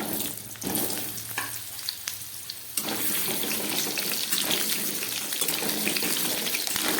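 Cut potatoes fry in white oil in a wok, a dense, close sizzle that starts softer and swells louder and steadier after a few seconds, with no voices.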